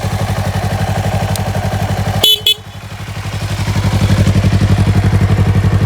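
A 2024 Yamaha MT-03 motorcycle engine idles while warming up, with a loud, steady pulsing rumble broken briefly by a short honk and clatter midway, then settling back into an even, close idle.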